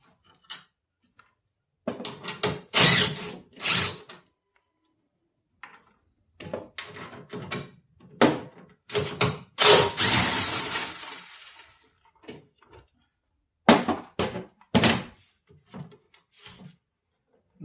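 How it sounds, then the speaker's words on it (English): Removal of 10mm bolts from a Toyota Tacoma reverse light housing: bursts of metallic ratcheting and clicking come close and loud, broken up by short silent pauses. "we have 1, 2, 3 10mm bolts. So we'll just go ahead and take these out."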